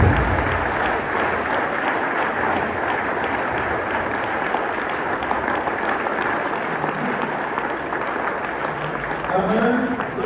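A church congregation claps through a Sunday worship service, steady and sustained applause that fills the room from start to finish.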